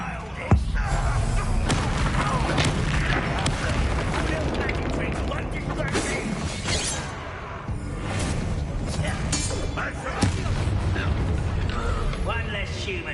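Bombarda spell blasts in Hogwarts Legacy, heavy booming impacts landing over a dense, loud combat din, with sharp cracks near the start and again around ten seconds, while voices speak over the action.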